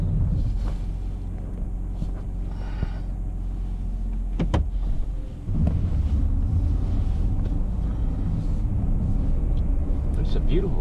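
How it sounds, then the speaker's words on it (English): Wind blows outdoors on a cold, sunny day in southwest Montana, a steady low rumbling buffet across the microphone with gusty swells throughout. "It has been blowing at 7 degrees outside"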